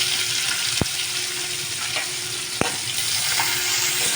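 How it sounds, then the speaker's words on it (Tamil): Onion sautéing with curry leaves in a pan for cumin curry, a loud, continuous close sizzle broken by a couple of sharp utensil taps against the pan, no voices. "இந்த வெங்காயத்தையும் நீங்கள் வந்து லைட்டாக கொஞ்சம் செந்நேரத்துக்கு மாறுற வரைக்கும் வதக்கிட்டே இருங்க"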